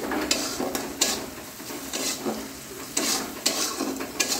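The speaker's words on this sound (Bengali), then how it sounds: "আমি এবারে এটা দিয়ে একটু যাই, মশলাটা একটু কষছি।" Spice paste frying and being stirred in hot oil in a pan while making pabda fish curry: a steady close sizzle broken by regular scraping strokes of the spoon, with no voices.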